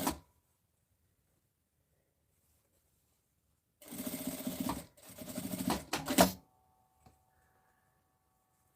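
A domestic sewing machine stitches the seam of a half-moon fabric pencil case in two quick bursts of rapid mechanical whirring, separated by a short pause, in an otherwise quiet room.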